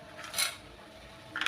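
Lentil dumplings (bori) go into a pan with beetroot, making two brief, light clattering rattles against the metal, close and quiet with no talk.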